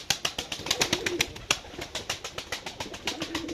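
Pigeons cooing inside a cellar coop, a steady run of repeated soft coos from several birds close by, with faint rustling between calls.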